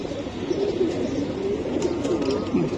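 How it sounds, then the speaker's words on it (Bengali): A female silver Giribaj pigeon, a breeding hen, coos in low, rolling murmurs that repeat steadily and close by over a faint background hum. "বাচ্চা খাওয়ানো কবুতর"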